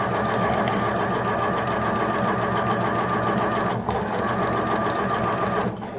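Sewing machine stitching a dart on Tilly Buttons Safiya trousers, running at an even, fast rhythmic whir, close and steady for about six seconds with only a brief dip near the end.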